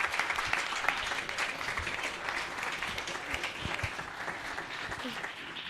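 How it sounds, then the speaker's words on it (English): A pub discussion-forum audience gives a round of applause, continuous dense clapping from a modest crowd in a room, steady throughout. "big round of applause for everyone"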